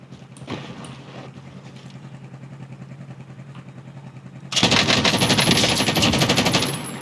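Gunfire from a first-person shooter video game rattles quietly under a background hum, then breaks into a loud, sustained burst of rapid automatic fire about two-thirds of the way through.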